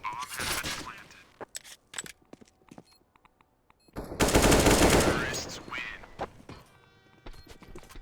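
Rapid bursts of rifle fire crackle from a Counter-Strike match on the Train map, with short sharp volleys scattered through and one long, dense stretch of sustained shooting in the middle, set among quieter gaps.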